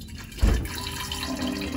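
Cold brew coffee pours from a French press in a home kitchen, a close, steady liquid trickle with a brief louder splash near the start and no talking.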